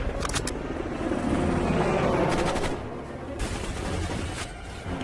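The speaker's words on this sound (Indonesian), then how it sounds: "sebuah heli datang lalu tiba-tiba kemudian menghujani mereka dengan tembakan" Bursts of rapid automatic gunfire from a helicopter crackle in uneven volleys over a rumbling background, loud and close, in a film battle scene.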